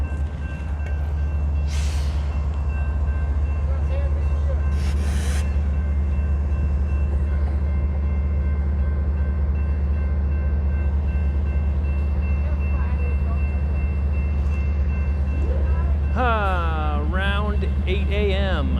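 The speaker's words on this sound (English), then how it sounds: "This train's just fucking sitting there." A train sits idling on the tracks, giving a steady low engine rumble and hum throughout, with people talking over it and a brief squealing, wavering tone near the end.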